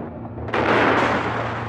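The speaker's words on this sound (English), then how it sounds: "the armored cruiser Schleswig-Holstein opened fire on the Westerplatte with all its guns. The barrage continues." Naval guns of the armored cruiser Schleswig-Holstein firing on Westerplatte, a loud booming blast that swells into a sustained rumbling roar over a low droning hum.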